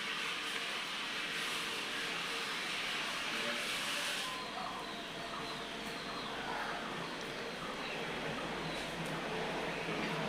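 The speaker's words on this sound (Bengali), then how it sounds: "এখন আমি তেলে দিয়ে দিচ্ছি।" Filled bread pieces deep-fry in hot oil over a medium gas flame, giving a steady, close sizzling hiss that runs the whole time and softens slightly partway through.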